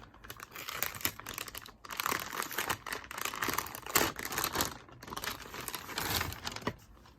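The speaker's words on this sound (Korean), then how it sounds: "제가 자다가 이런 택배를 받았거든요. 일단 뜯어볼게요." Crinkling and tearing of a delivery package being opened, as plastic and paper rustle in quick close bursts with brief pauses, quiet and with no voices.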